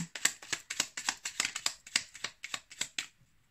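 Oracle message cards are shuffled and flicked by hand, a quick rhythmic run of crisp papery snaps, about a dozen in three seconds, close and clear before fading out.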